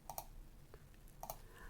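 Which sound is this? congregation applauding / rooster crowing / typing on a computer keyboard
typing on a computer keyboard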